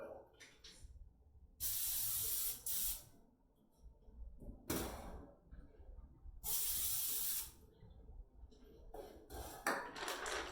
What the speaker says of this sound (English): We're just going to spray them down with vegetable oil.